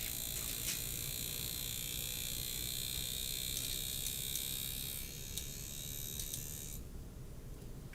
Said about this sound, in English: Oh, I got a fan spinning.